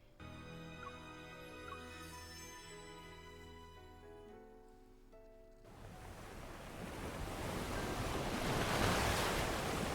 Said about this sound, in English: The waves will carry us to that empty stretch of sea once more.